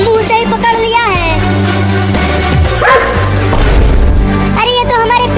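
A cartoon dog barks and yips loudly amid a busy animated soundtrack with music and character voices talking over it.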